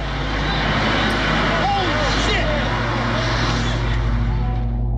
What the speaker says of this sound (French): le premier avion s'écrase dans la tour nord du World Trade Center